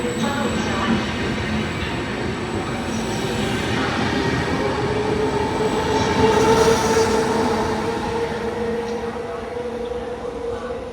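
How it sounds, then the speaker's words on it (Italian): A Trenitalia Frecciarossa high-speed passenger train rumbles past steadily at Venezia Mestre with a broad rushing roar and faint metallic squeal, swelling slightly midway before easing off. "Trenitalia Frecciarossa High Speed."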